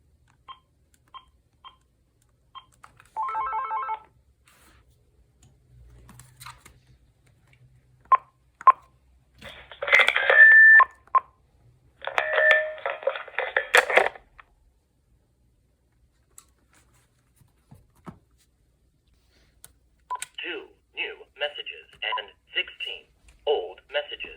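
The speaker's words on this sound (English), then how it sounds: "I wanted to get a sound of it hanging up into the charger" VTech 5831 5.8GHz cordless phone handset being hung up into its charger, with a series of electronic beeps and tones, soft clicks and thuds, and brief bursts of phone audio separated by quiet gaps.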